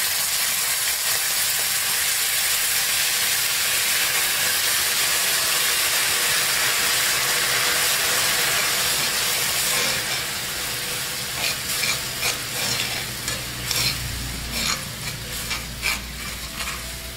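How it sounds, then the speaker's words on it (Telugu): Jaggery and sugar heating with a little water in a pot for syrup: a loud, even hissing sizzle for the first half, then quieter bubbling with scattered spoon clatters and stirring taps against the vessel. "ఇప్పుడు ఒక గిన్నెలో బెల్లము, ఈ పంచదార కూడా వేసేసేసి కొద్దిగా వాటర్ని వేసుకుని పాకం రానిద్దాం"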